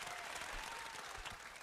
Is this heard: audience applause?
yes